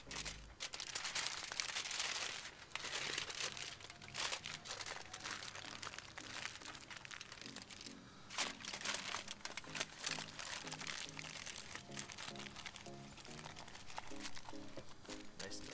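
Aluminum foil crinkles and crunches continuously as pork ribs are wrapped, a close, dense rustling with brief pauses and some louder crumpling bursts.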